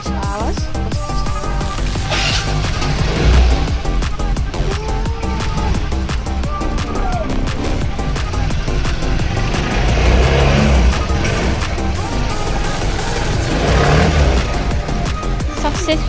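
A Vespa scooter engine, freshly repaired and reassembled with its outer covers refitted, runs steadily up close for the whole stretch, a continuous low mechanical drone with slight surges, while a voice talks at times.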